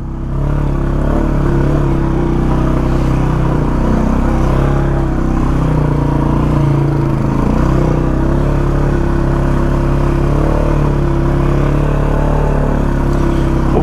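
A 2021 Polaris 570 UTV crawling along a trail in low gear, its loud, close engine holding a steady low drone with a rough clattering edge throughout, no talk over it.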